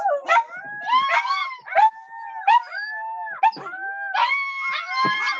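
Several pet dogs howl and whimper close by in a home, long rising wails overlapping in repeated waves with whiny breaks, loud and alone without talk.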